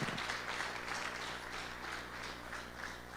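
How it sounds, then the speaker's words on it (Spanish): Church congregation applauding at a sermon by a female pastor, a steady wash of many hands clapping that stays fairly even and close for the whole stretch. "Dale un aplauso a su palabra"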